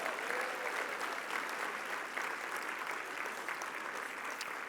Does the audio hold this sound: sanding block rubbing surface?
no